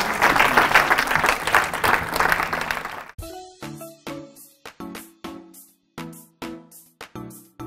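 A church congregation at an evangelical service bursts into sustained applause, then settles into rhythmic unison clapping with distinct claps at a steady beat over a faint organ-like tone.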